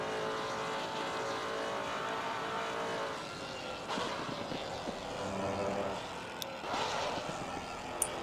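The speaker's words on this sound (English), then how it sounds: "as he approaches turn 1, just listen to the downshifts on this car" A GT race car in Assetto Corsa Competizione brakes for turn 1 with a sequence of sharp, crackling downshifts, the engine note rasping and rising in short bursts, fairly faint in the mix.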